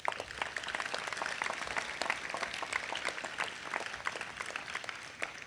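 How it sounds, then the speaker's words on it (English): An audience at a university convocation applauds faculty members, a faint, distant wash of many hands clapping that holds steady throughout. "A round of applause for them."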